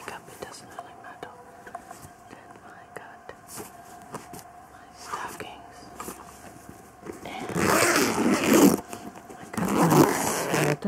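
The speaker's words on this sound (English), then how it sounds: "And the other zipper." A suitcase zipper is pulled open in close, crisp bursts of scratchy zipping, with quiet whispered talk around it in an intimate setting.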